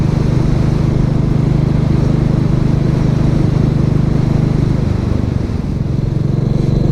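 Royal Enfield Classic 350 motorcycle with saddlebags cruising on a commute, a steady low thumping engine drone with wind, constant and close throughout, briefly easing near the end.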